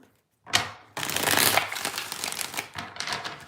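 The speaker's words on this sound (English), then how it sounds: "So let's get 3 shuffles here for the first spread." A deck of tarot cards is shuffled several times in a row, giving quick papery riffles and crisp flicks close up, with no talking.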